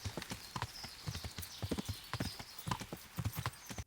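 A slow horse's hooves clip-clop on a road at the stables, a steady uneven rhythm of close, distinct hoof strikes with no talk over them.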